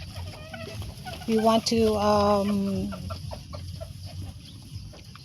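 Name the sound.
bantam chickens clucking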